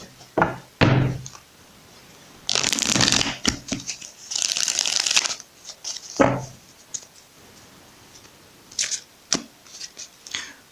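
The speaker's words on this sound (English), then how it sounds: "one more shuffle." Tarot cards shuffled by hand during a reading, heard as bursts of papery riffling and soft thumps of the deck being squared, with quiet pauses between the shuffles.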